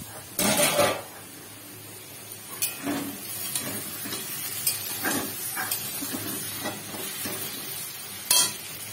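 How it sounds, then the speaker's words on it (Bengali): Potatoes frying with poppy seed paste in a home kitchen, a soft sizzle underneath intermittent scraping and stirring clatter of a utensil against the pan, with louder scrapes at the start and near the end. "এখানে পোস্ত আলু ভাজা হচ্ছে"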